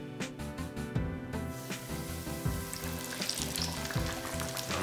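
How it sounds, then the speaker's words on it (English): Loud, steady crackling and hissing of chicken frying in hot oil, with faint background music underneath. "you want it to just start sizzling as soon as you put it in"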